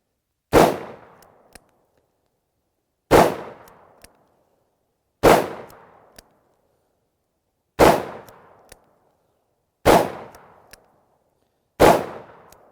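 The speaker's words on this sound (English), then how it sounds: "let you guys see this big old 44 Magnum in action" Six heavy .44 Magnum shots from a Smith & Wesson 629 revolver with a 5-inch barrel, fired one at a time about two seconds apart, each a loud sharp blast with a short ringing decay and a faint later echo.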